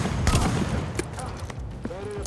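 Shotgun blasts in The Division, several sharp reports packed close together in a short burst of rapid gunfire, loud and near, with game effects and faint voice sounds mixed in.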